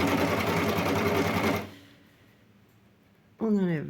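A sewing machine stitches a men's jersey t-shirt, running in a fast, steady burst of rhythmic needle clatter before stopping. A short stretch of near silence follows, and then a voice briefly speaks.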